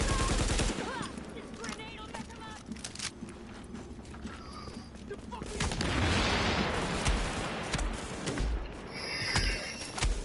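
Gunfire in The Division's Dark Zone, the online shooter game, with bursts of automatic shots and impacts layered over a dense, noisy combat mix, swelling louder in the second half.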